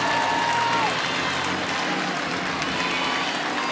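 Arkansas crowd at a night College World Series baseball game applauding and cheering a departing pitcher, a dense, loud, continuous stadium roar.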